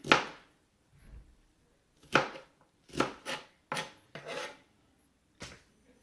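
Knife cutting vegetables such as onions on a chopping board, a handful of crisp, close slicing strokes spaced irregularly, some in quick pairs, with near silence between them.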